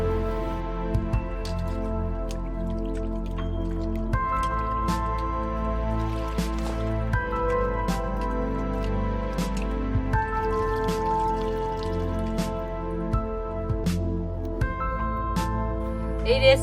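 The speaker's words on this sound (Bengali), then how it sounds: "এই দেখুন বন্ধুরা, আমি পুকুরের জলে মাছটা ভালো করে ধুয়ে নিয়েছি, এরপর কলের জলে আবার ধুয়ে নেব।" A fish is rinsed by hand in pond water, giving wet squishes and scattered drips and trickles over a steady, humming background throughout.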